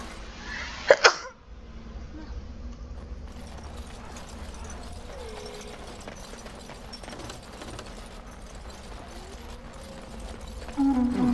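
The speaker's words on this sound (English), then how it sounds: "gonna sneeze" A single close sneeze bursts out near the start, sharp and loud, followed by quiet game ambience with faint background sounds.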